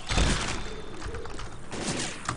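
Video game gunfire from Left 4 Dead 2 comes as a burst of rapid, close shots and mechanical clatter, loud at the start and continuing in a dense volley for about two seconds.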